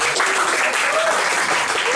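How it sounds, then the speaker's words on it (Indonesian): An audience claps at a Protestant church catechism retreat. The dense applause is loud and close, steady and continuous across the short stretch, and no voices rise above it. "Aku tepuk tangan."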